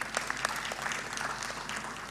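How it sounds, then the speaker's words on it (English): A large audience at a fund's annual members' meeting applauds the staff with brisk, crowded clapping that holds steady throughout the short stretch. "Can you clap for the staff of Nssf?"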